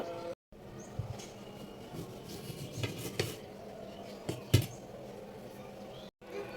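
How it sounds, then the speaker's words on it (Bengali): A knife cuts through medium-sized mangoes on a board, giving soft, scraping strokes and a few sharper taps and clicks at an unhurried pace, close by and fairly quiet. "তো আমি এখন আমগুলোকে কেটে নিব"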